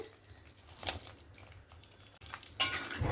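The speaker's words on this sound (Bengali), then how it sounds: "এবার ভেজে রাখা পটল আমি দিয়ে দেবো এখানে" Fried pointed gourd pieces are tipped into cooked masala in a pan, with scattered metallic clinks and clatters of a spoon against cookware and a louder rattle toward the end.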